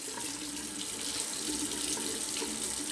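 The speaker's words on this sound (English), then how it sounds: "I'm going to put that lathering bowl and the brush under the running water there" Tap water runs steadily as a shaving brush and lathering bowl are rinsed beneath it, a continuous close splashing hiss with small shifts in flow.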